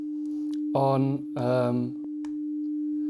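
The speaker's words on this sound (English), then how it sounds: "Here we have the plain sine wave" A plain 300 Hz sine wave from the Ableton Operator synth holds as a steady, pure, unbroken tone through the whole stretch, while someone talks briefly over it in the middle.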